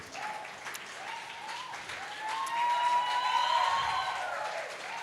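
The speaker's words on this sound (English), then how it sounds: "Can we have a round of applause, please, for our finalists" Steady, moderately distant audience applause fills the hall for the finalists, James Aranas of the Philippines and Ko Ping-yi of Chinese Taipei, at the APF Asian 9-Ball Open final, swelling slightly midway with a faint tonal sound beneath.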